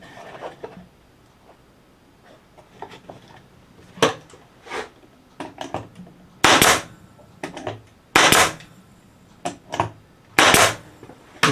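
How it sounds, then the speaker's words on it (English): A staple gun drives staples through scrap wooden boards, firing a string of sharp, loud single snaps at irregular intervals with quieter handling clatter and shuffling between shots, close up and without speech. "I have to shoot staples through this board, and then through this board, through here."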